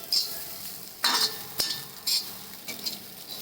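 Dried bombil (Bombay duck) chutney frying in a pan, stirred with a utensil in several separate scraping bursts over a low sizzle, close and fairly loud, with no voices.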